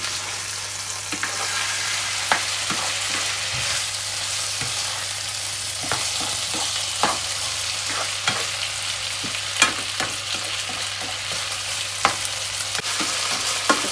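Garlic is stir-fried in a pan until golden, giving a steady close sizzle broken by frequent sharp clicks and scrapes of a spatula against the pan.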